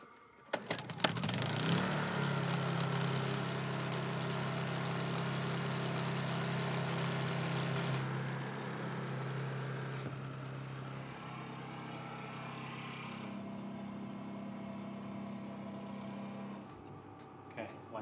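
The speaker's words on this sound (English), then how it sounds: "The generator's fired up and it's working" A Honda generator charges batteries through an inverter, giving off a steady, droning engine hum that shifts in tone partway through, with speech at times over the running engine.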